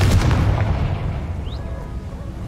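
A deep booming fire-spell blast, Confringo, from the video game Hogwarts Legacy, hits loud at the start and rolls off into a fading rumble with a faint whooshing tail, no talk over it.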